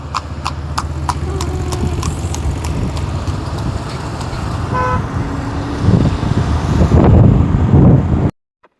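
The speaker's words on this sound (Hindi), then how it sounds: "और देखिए रास्ते में मुझे दिख गया घोड़ा" A horse clip-clops along a road in a steady, close walking rhythm, while traffic passes, a vehicle horn toots and wind buffets the microphone.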